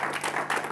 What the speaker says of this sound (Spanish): Vamos a darle ese fuerte aplauso a Jesús.